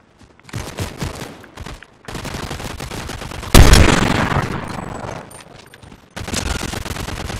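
Gunfire in the video game Fortnite, including a sniper rifle: short bursts of shots open the scene, then one loud, heavy crack rings out and decays slowly before the firing resumes, with no voices.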